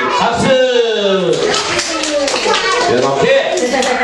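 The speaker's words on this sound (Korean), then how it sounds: "박수" Children at a daycare puppet show clap along while a voice talks and sings over them, the clapping quick and irregular beneath the speech.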